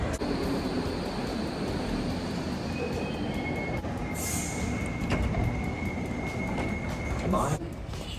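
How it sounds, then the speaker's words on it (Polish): London Underground metro train running, a steady loud rumble of wheels on rail with occasional high squeals and metallic tones throughout, no pauses. "Czas wyruszyć metrem odpowiednio trasę."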